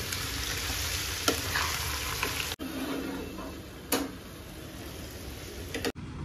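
Oil fries steadily in a pan, a continuous close hiss and crackle, broken by a few short knocks and clicks of a utensil.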